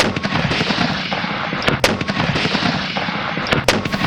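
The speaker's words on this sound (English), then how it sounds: "Our mortar boats hurl 200-pound shells in a bombardment that will last for 7 weeks" Heavy artillery bombardment from Civil War mortar boats firing 200-pound shells at a fort, a dense, continuous roar of booms with two sharp, loud blasts standing out near the middle and end, no voices.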